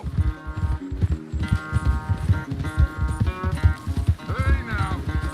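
A galloping horse in Red Dead Redemption 2 throws out rhythmic clip-clop hoofbeats, close and prominent, under a musical score with a short neigh near the end.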